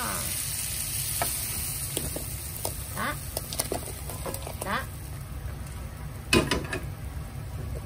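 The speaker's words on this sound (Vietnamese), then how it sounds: "nồi bên đây thì cũng đã sôi, bắt đầu sôi rồi" A pot of water with tomatoes coming to a boil for Vietnamese sour soup with water spinach, a steady low bubbling patter under scattered clinks and brief stirring, while someone speaks briefly.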